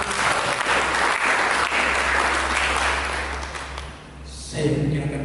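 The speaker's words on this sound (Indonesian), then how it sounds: "Mari berikan tepuk tangan." Congregation at a church sermon breaks into loud, sustained applause filling the room, easing off briefly near the end before a short swell returns.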